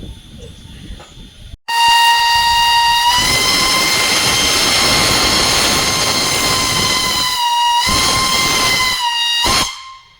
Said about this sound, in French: Avec un petit coup de sifflet.